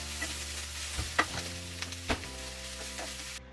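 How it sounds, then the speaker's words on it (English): Onions caramelize in a pan with a steady, close sizzle. A few scraping stirs rise over it before the sound cuts off, with a faint hum underneath. "my onions are caramelizing back there"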